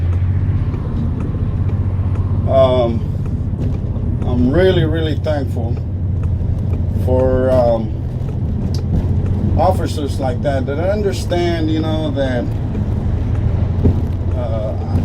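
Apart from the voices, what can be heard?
white bus being driven on the road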